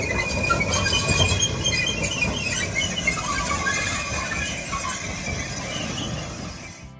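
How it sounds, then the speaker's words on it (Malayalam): A coal-fired steam locomotive on a UK heritage railway runs off after being uncoupled from its train, with loud squealing wheels over a steady rumble that fades near the end. "നമ്മൾ വന്ന ട്രെയിനിൻ്റെ എഞ്ചിനാണ് ആ ഓടി പോകുന്നത് കേട്ടോ."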